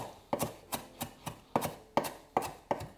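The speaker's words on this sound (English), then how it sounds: "so you don't want to cut through it too many times, or else you're going to bruise it and lose all that precious flavor to your chopping board" A knife chopping fresh herbs on a chopping board, about eight crisp evenly spaced strokes, close and clear with no talking.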